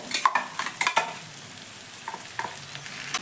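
Tomato paste stirred and fried with chopped ivy gourd (kundri) in an uncovered pan with no water; close, lively sizzling with clustered spatula scrapes early on, then a softer steady fry with occasional stirs.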